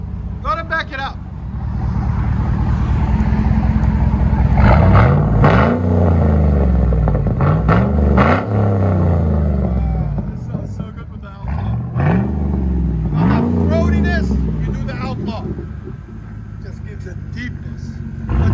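Deep, loud throb from a 2008 GMC Yukon 6.2-liter V8 with a Flowmaster Outlaw, 5-inch tip, and muffler and resonator deleted, revved several times in rising sweeps with talk heard over it.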